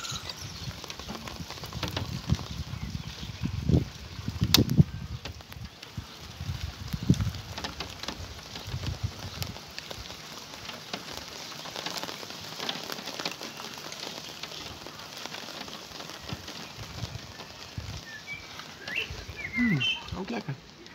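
Raindrops patter and tap irregularly nearby as a thunderstorm moves over Vorden, a soft crackling spatter, faint and scattered at first, then a little denser, with no voices.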